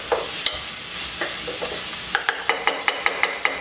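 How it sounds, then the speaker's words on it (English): Onion cooking in a pan for baked ziti, with soft sizzling under a run of regular scraping strokes as a utensil stirs, the stirring speeding into a steady rhythm toward the end. "Onion smells so good when it's cooking."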